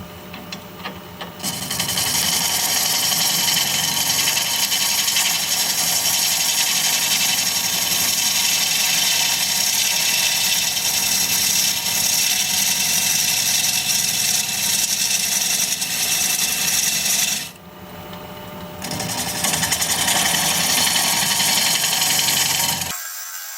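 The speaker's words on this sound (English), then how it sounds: "We're going to be turning at 680 RPM, 5/8 inch bowl gouge" A wood lathe spins olive wood at 680 RPM as a 5/8 inch bowl gouge cuts it, giving a loud, steady whirring hiss that stops briefly partway through and then resumes, with no talk.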